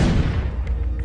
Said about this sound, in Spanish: Disparó una bala al aire y me hizo valiente.